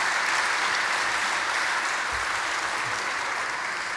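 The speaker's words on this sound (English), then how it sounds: "Please give them another round of applause." Gala audience at the Link-Up (Qld) 40th anniversary event gives a sustained, dense round of applause from a large crowd, even and continuous throughout.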